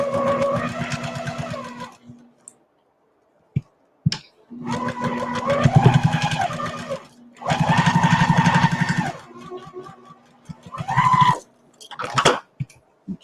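A sewing machine stitches a quilt row at a 2.5 stitch length in several rapid, rhythmic bursts of needle chatter separated by short silences, close and fairly loud.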